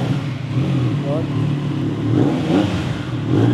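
A 2024 Triumph Tiger Sport 660 with a 660cc inline-3 engine revs in a steady, throaty run close by, the engine note rising slightly toward the end while a voice talks over it.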